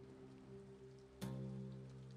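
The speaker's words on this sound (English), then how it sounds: "Oh, it's raining." Rain in the video game Sands of Salzaar falls as a soft, continuous patter over a quiet tonal music bed. A brief swell midway joins it, and nobody speaks.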